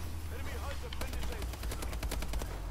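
AK-12 rifle fire in a video game: a rapid burst of sharp shots from about one second on, heard over a steady low rumble with faint speech beneath.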